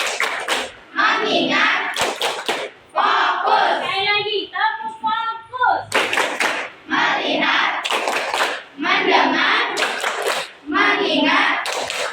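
A classroom of children performs the 'tepuk fokus' clapping game, with loud, tight bursts of rhythmic group claps alternating with chanted voices, repeating in a steady pattern.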